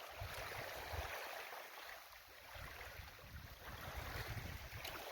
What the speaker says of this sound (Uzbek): Mana to'lqinni kelishini qarang. Shov keladi.